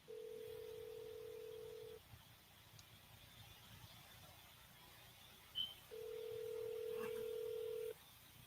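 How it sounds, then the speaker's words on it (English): Two long steady telephone call-progress tones during a triple-dial call, each holding a flat pitch for about two seconds, separated by quiet line noise with a faint click between them. "This is a triple dial."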